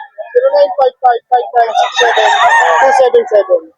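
Several roosters at a breeder farm in Bocaue, Philippines crow close by in loud, strained calls that overlap and run together, with short clucking bursts at the start.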